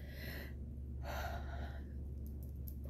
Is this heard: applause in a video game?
no